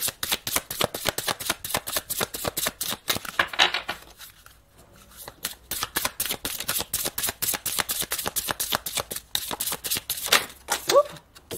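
Tarot cards are shuffled for a reading in a dense run of crisp riffling flicks, close and fairly quiet, with a brief pause midway and no talk over it.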